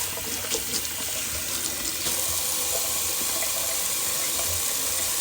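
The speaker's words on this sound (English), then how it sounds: "do a little cold water rinse" Water runs steadily from a tap into a sink, a constant hissing splash with faint clinks underneath.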